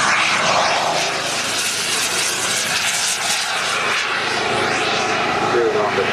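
A model aircraft roars through a dive at an outdoor model air show, a loud steady engine drone with a commentator talking over it.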